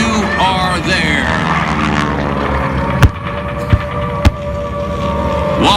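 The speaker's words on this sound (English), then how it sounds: "Watch as the K torpedo bombers come through, dropping those special torpedoes." Propeller torpedo bombers roar past in a Tora Tora Tora Pearl Harbor attack reenactment at the 2017 Joint Base Andrews air show, a steady droning engine hum under a loudspeaker announcer's talk, broken by a few sharp bangs.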